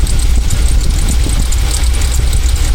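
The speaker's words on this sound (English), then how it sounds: "I hear the engine bog down a little bit. Right there, kind of sputtered." A loud, steady rumble of a Jeep XJ engine idling nearby, low and continuous with a slight uneven throb as it bogs and sputters.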